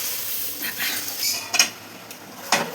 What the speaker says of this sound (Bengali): পেঁয়াজ টমেটোটা ভাজা হয়ে গেছে, এবার আমি ম্যারিনেট করা মাংসটা দিয়ে দেবো